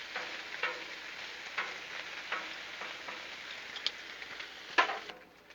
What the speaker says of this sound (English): Sizzle, sizzle.